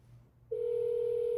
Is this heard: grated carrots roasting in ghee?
no